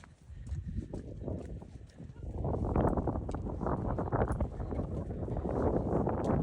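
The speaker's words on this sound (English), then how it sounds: "It's quite windy and wet today." Wind buffets the microphone outdoors on a wet day at an animal sanctuary barn, with low, rumbling gusts that strengthen midway and stay blustery, along with faint scattered knocks and movement.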